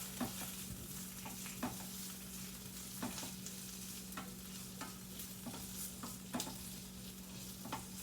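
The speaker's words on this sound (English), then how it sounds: "My onions sauteed up really good here" Onions sautéing in a pan beside turkey burgers give a steady close sizzle, with a low hum underneath and occasional sharp scrapes of stirring scattered through.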